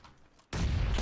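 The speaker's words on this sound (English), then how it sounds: "Popped the nade directly into his building and it just didn't do anything." A grenade detonates in the shooter game PUBG, a sudden loud blast cutting in after quiet and rumbling on with a broad, dense roar to the end.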